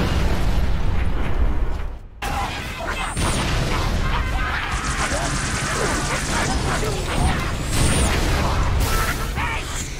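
Artillery fire mission FPF-1 in a game: heavy, continuous rumbling blasts with crashing booms and debris, loud and sustained after a brief dropout near two seconds, with radio-style voices talking over the barrage.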